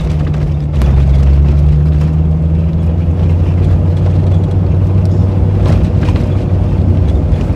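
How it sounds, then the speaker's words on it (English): A Ford Mustang creeps along a rough, bumpy road in second gear, its low engine drone steady and loud throughout, with occasional thumps and rattles from the suspension and wind buffeting the microphone. "we're going to have to go really slow, I guess second gear through here"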